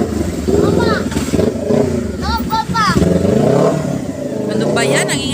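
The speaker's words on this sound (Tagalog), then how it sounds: "Ang ingay-ingay mo naman. Ikaw na may big bike." A big bike motorcycle revs nearby in a busy outdoor crowd at a store opening in Imus, Cavite, its engine roar rising and falling under loud overlapping talk and chatter.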